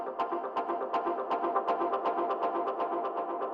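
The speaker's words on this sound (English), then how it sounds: "You can also mess around with the feedback on the echo so you get more of a pad texture." Synth pad built from dub delay with heavy echo feedback, a steady pulsing texture of rhythmic repeats that blur into a sustained wash, even in level and without voices.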